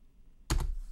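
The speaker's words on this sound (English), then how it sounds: "Click A or press A on your keyboard." A single brief burst of computer keyboard key presses, close and crisp, following near-silence in a quiet room.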